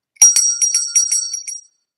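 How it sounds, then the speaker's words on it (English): A small healing bell is rung in a quick series of about eight bright, shimmering strikes that fade over under two seconds, heard alone with no talking. "it's a healing bell with prayers, with love"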